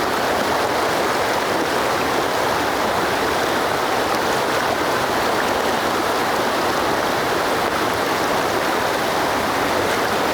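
A small, clear mountain stream rushes steadily at a fly-fishing spot, producing a loud, continuous wash of flowing water with no breaks and no voices.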